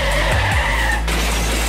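A shopping cart skids in a video game with a loud, sustained screech of scraping motion, heard up close and alone.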